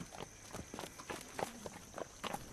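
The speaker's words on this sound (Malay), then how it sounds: "Bunyi kaki orang melangkah jelas kedengaran dan diteruti dengan bunyi tapak kaki kuda di luar bilik" Footsteps walk along, then horse hooves clop outside a room, faint, irregular and fairly distant in a quiet interior.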